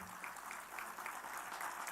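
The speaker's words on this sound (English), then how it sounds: "A round of applause to this gentleman who has given a vision to the institute." Steady audience applause at the inaugural ceremony of the ICAI AI Innovation Summit 2025, many hands clapping together in a dense continuous patter.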